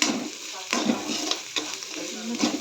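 Grated coconut fries in a pan for a Kannada greens sambar, giving a steady close sizzle with scraping stirring strokes and occasional clinks of the utensil, no voices over it.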